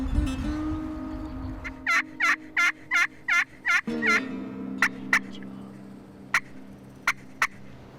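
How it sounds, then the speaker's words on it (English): Wild turkeys gobble in the open outdoors, a string of about seven loud rattling gobbles in quick succession followed by several shorter, scattered gobbles over a low steady background hum. "we got birds gobbling at us now"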